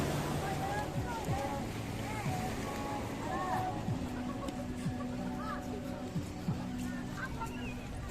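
A wooden Tonda fishing boat enters the Muaro Pariaman river mouth amid a steady wash of wind and surf, with a low engine drone and scattered voices in the background.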